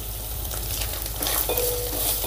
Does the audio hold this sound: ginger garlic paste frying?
yes